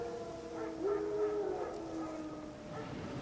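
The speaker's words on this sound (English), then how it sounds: "Wild dogs. Yes. More dangerous than wolves." Wild dogs in the fantasy game The Witcher 3 howl in the distance, drawn-out wavering cries rising and falling over a low ambient background.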